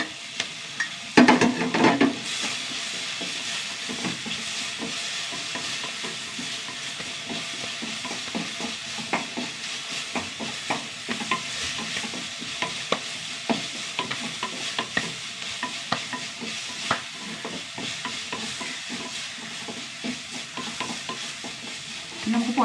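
Dried shrimp frying with sautéed onions in a pan, a steady close sizzle under constant scraping and stirring strokes, with no voices.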